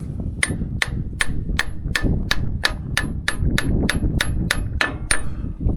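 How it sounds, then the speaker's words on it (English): A hammer strikes a pin in the cylinder of a farm machine about fourteen times in a steady rhythm, each blow a sharp, ringing metallic clank over a constant low mechanical rumble. "So what I'm going to do is hammer this"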